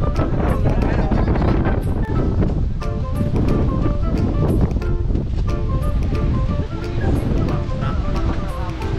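Strong, steady wind roars across the whole stretch at Esperance, Western Australia, a broad rushing noise with buffeting on the microphone and faint voices beneath.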